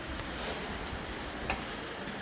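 Rain falls outside as a steady, soft hiss with occasional faint drips and taps close by. No one speaks.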